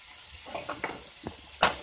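Minced meat goes into a pan with golden-fried garlic, giving a soft sizzle and a few quick scrapes and taps of a utensil, ending in a sharper clink; close and fairly quiet.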